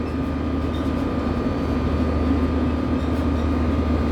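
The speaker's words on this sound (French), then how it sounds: "On va regarder le train partir." A Ouigo train built by Alstom pulls out of Gare du Nord in Paris, a steady low rumble and hum rolling on without a break, with a faint whine riding over it.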